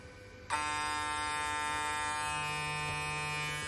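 A Union THE BOSS FM-009 cordless hair clipper switches on with a click and runs at full speed with a steady, loud, high-pitched motor buzz close by.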